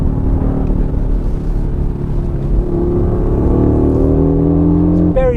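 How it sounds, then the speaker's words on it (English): Loud, close five-cylinder howl from an Audi RS Q3 Sportback, held steady and then climbing in pitch as the revs build, with a sharp burst at the very end. "we've got that 5-cylinder howl going on."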